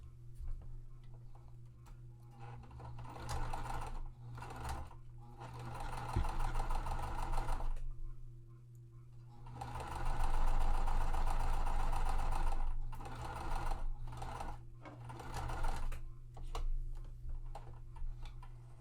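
A home sewing machine chain stitches several quilt pieces one after another, running in long steady bursts of rapid, even stitching with short pauses and small clicks between seams, close and clear with no talking.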